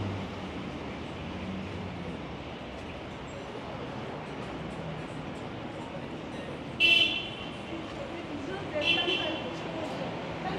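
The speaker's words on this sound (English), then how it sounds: "What are you honking for?" A car horn honks twice in short bursts on Davie Street near Howe Street in Vancouver, set against steady city traffic noise while a person talks nearby.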